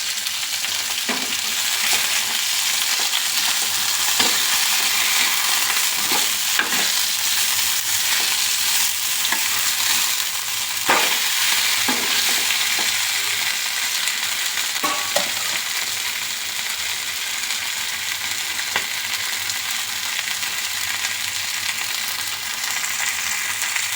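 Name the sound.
bangude (mackerel) fish frying in a pan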